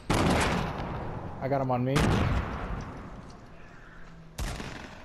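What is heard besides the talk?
gunshots in the video game Fortnite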